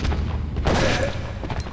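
A close-range gunshot in Resident Evil Outbreak File 2 fired at a zombie: one sharp boom with a brief decaying tail over low game ambience.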